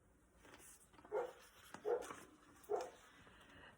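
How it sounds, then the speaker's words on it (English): A dog gives three short, clear barks spaced about a second apart over a quiet background, each one a sharp single yap. "Arf! Said Doggy."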